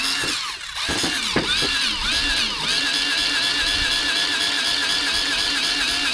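A DeWalt 20V cordless grease gun runs close by with a continuous buzzing motor whine that wavers in pitch at first, then settles into an even drone.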